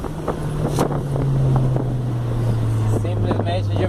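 An Audi A3 1.8 turbo running on nitrous revs hard above 4000 rpm, a loud, steady engine drone with wind buffeting against the microphone throughout.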